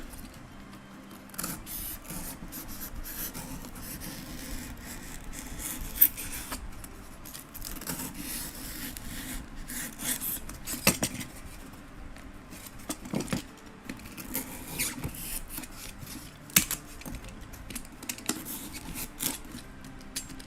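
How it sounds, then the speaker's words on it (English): Cutting on a plywood board while building Shelob's Lair terrain for a tabletop wargame: a steady, quiet scraping and rubbing with scattered small taps and knocks, close by and without talk. "We can just cut on the plywood as well."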